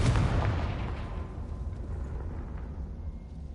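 A loud blast from the Confringo spell in the Hogwarts Legacy video game, a sharp burst up front that rolls into a long rumbling decay over several seconds, with no talk.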